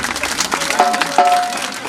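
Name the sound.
audience clapping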